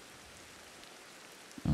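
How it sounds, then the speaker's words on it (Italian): Steady rain falls in the video game Ancestors: The Humankind Odyssey, a soft even hiss throughout, ending in a brief louder burst of sound at the close. "Purtroppo piove"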